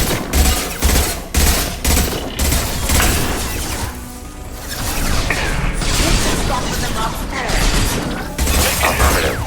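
Hacked turret in Mass Effect 2 firing loud, rapid repeated bursts that stop and start, with steady combat noise underneath and a short lull midway.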